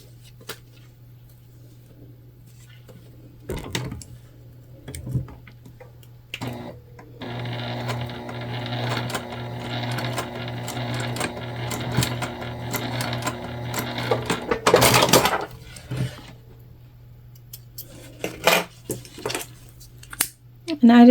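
A sewing machine runs in a steady mechanical whir for about seven seconds, basting fabric in place on a tote bag. Handling noises and light clatter come before and after, and a voice speaks around the stitching.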